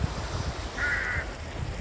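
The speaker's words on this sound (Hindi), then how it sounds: "ये सारे कौवे काव काव काव काव करने में लगे हैं।" A single drawn-out crow caw in Aru Valley, Kashmir, rising faintly over steady wind and outdoor rumble, somewhat distant and alone with no talking.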